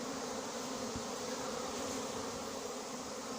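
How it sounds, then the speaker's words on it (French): A dense, steady buzz of many honeybees flying close by while a swarm is collected in Igny, a continuous droning hum with no talking. "Pas mal d'abeilles qui volent mais ça va vite se résoudre"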